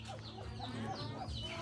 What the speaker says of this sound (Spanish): Ajá, mi montón de gallinas.